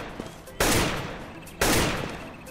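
Two loud, close gunshots from a shooting video game, each a sharp blast that decays over about a second, spaced roughly a second apart with faint background noise between them.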